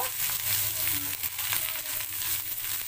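Fried rice seasoned with salt and black pepper being stirred in a pan, a continuous sizzle with scraping and rustling from the stirring, close and fairly loud.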